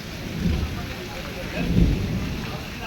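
Heavy rain pours steadily while low rumbles of thunder swell twice, with faint voices in the background at a temple during evening garba and aarti.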